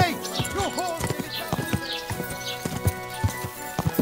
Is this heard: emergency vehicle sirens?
no